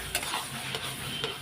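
Peas poured and stirred into fried spice masala in a pan for ghugni, with a sizzling crackle, a few sharp scraping ticks from the spoon and no talking.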